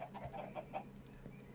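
Chickens in the video game Minecraft cluck in a quick string of soft, short clucks that fade into faint scattered clucks, quiet and without talk.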